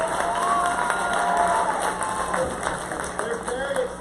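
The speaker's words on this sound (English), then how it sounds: "round of applause for them." Audience cheering and applause at a 5th grade music class spring concert in Collinsville, a steady crowd roar with whoops and children's shouts, fairly loud and continuous throughout.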